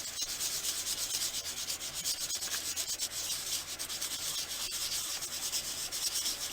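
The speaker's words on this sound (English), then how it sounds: "Try to sand in a circular motion." Steady wet scraping and rubbing of sandpaper against a polymer clay faux stone, continuous and close, with no voices.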